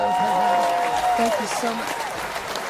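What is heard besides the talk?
audience applause for co-host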